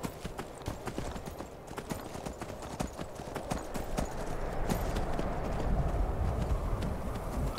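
Horse hooves clip-clop in a steady gait in the video game Skyrim Special Edition, a rhythmic run of distinct hoof strikes over a soft outdoor ambience that grows slightly louder toward the end.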